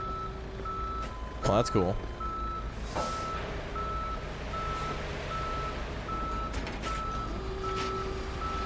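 A tow truck in a police simulator video game sounds its reversing alarm, a steady, evenly spaced beeping over a low engine rumble and brief air-brake hisses, while someone talks briefly.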